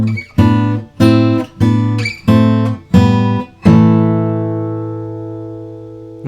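Fingerstyle acoustic guitar plays a tune: six evenly spaced plucked notes or chords ring out close and clear, the last left to sustain and slowly fade.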